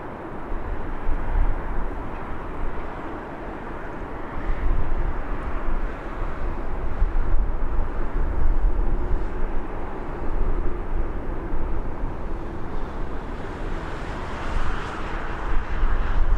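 A Dreamliner airliner at Birmingham Airport, landing short in a stiff wind, gives a loud, sustained jet roar that swells and eases gently and stays strong to the end, with no voices.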